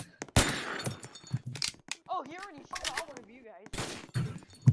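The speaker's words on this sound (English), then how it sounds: "Oh, and my teammate broke glass without a suppressor." Unsuppressed gunfire and shattering glass in Roblox Entry Point, with sharp loud bursts of shots and breaking glass at the start and end and a voice talking in between.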